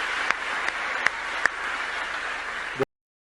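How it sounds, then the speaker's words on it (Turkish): Heavy applause from a large crowd at a speech by Saudi Prince Salman, a dense, steady clatter of hands with a few sharp claps standing out, cutting off abruptly after about three seconds. "büyük bir alkış tufanı var"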